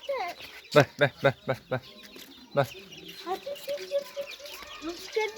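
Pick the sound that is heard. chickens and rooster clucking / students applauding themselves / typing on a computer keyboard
chickens and rooster clucking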